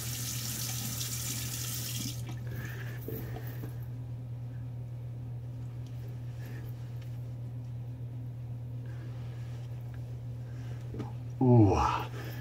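A water tap runs into a sink for a post-shave rinse, a hissing stream that cuts off after about two seconds, followed by a low steady hum and a brief clatter near the end.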